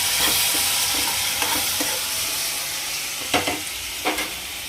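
Tomatoes stewing in a pan for a homemade dried-fish and tomato curry give a steady close sizzle, with several sharper scrapes and clinks of a spoon stirring through the clip; no one speaks.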